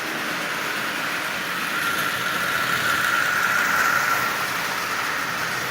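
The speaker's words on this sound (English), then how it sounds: "it's running nice and smooth, so there's nothing wrong with this engine at all" A Marx 999 tin toy train engine running at half power, a steady whirring motor and rolling rattle heard close and continuous with a slight swell midway.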